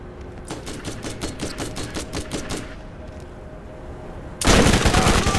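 Rapid bursts of shock-weapon gunfire from the Borderlands video game, about a dozen sharp evenly spaced shots in a quick string, then a pause and a sudden loud crackling blast.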